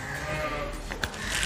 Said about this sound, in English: these are sheep which have not started milking yet